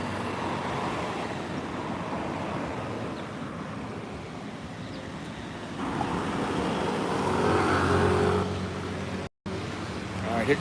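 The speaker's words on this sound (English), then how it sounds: "here comes a taxi" A taxi approaches through Thai street traffic, a steady engine and road rumble that swells gradually toward the end, heard close amid a constant wash of passing vehicles, with a brief dropout near the end.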